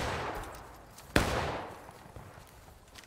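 A single sharp musket crack in the Civil War game War of Rights, one loud close report followed by a rolling echo over a background of distant scattered shots.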